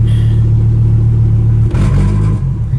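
A straight-piped truck engine revs, a loud steady low rumble that surges near the end, close up and alone with no talk.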